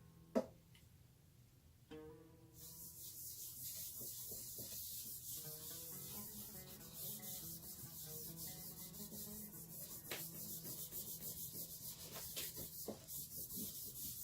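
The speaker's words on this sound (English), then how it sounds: "I'm gonna apply the lemon oil so we don't see the face of these scratches anymore, right?" Steady, close rubbing and scrubbing on the wooden body of a guitar being converted to an oud as lemon oil is worked into the scratched wood, a continuous raspy friction with small ticks.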